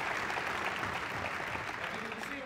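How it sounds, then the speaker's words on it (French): Audience applause after a business presentation, a steady wash of clapping from a crowd with a voice faintly audible beneath it, fairly quiet and even. "Alors vraiment applaudissons Alex pour cette super présentation"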